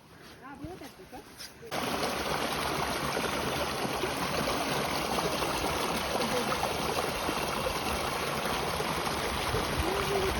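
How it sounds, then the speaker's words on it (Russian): A forest stream in spring flows in a steady, loud rushing wash that begins abruptly after a quieter opening, with faint voices underneath. "Смотри, какой там шикарный ручей."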